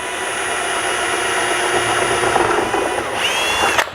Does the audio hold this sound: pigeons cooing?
no